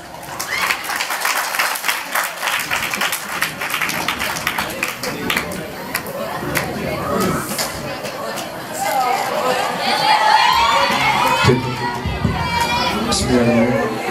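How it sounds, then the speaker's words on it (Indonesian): At a student Islamic school debate event, the audience claps and cheers for a debate team, a noisy mix of applause, chatter and children's shouts that swells louder toward the end. "Berikan tepuk tangan untuk regu A."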